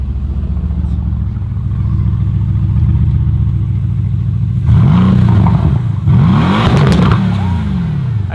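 A vehicle engine idles roughly and then revs hard twice in a row, its exhaust cracking and popping loudly up close with each throttle blip before it falls back to a steady idle.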